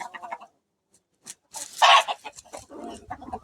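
Several backyard chickens cluck in uneven bursts, with a louder flurry of squawking in the middle, close by and with no talking.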